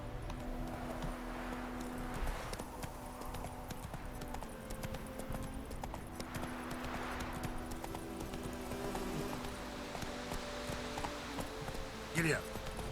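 Roach, Geralt's horse in The Witcher 3, galloping with rapid rhythmic hoofbeats and rustling tack, steady and fairly close, with someone talking over it and a sharp clatter near the end.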